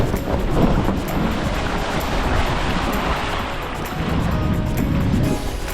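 Offshore wind and waves at sea during a windsurfing crossing from Germany to Denmark, a steady broadband rush of surf and wind buffeting on the microphone that runs throughout with no pause.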